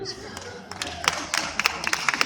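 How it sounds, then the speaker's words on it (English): Guests at a retirement party clap for a colleague, scattered, uneven hand claps that build slightly, with talking in the room beneath them. "Everybody clap for Dave"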